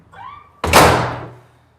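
A brief creak, then a door shuts with a solid thunk that rings out and fades over about a second.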